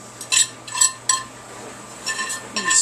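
A utensil stirs meat and vegetables in a pan, giving a few scraping clinks against the metal in short bursts over a faint sizzle.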